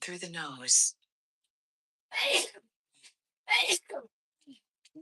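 A sudden close sneeze bursts out at the start, followed by a quieter sniff or breath and a spoken reply after a pause.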